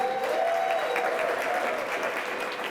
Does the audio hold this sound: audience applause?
yes